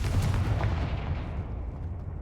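A deep, rumbling blast from the Confringo fire spell in the video game Hogwarts Legacy, loud and heavy at the start, then rolling off into a long fading boom with no talking over it.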